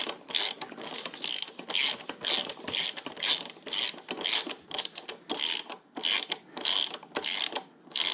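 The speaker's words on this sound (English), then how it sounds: "We'll run my torque wrench over all these important bolts." Torque wrench ratcheting over bolts on a Royal Enfield Meteor 350 motorcycle, a run of crisp clicking ratchet strokes in quick repeated bursts with short pauses between, close and alone.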